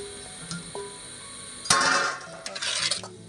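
Cut raw mango pieces for pickle are stirred in a bowl, giving a short run of wet scraping and clattering strokes, close and moderately loud, with no talking.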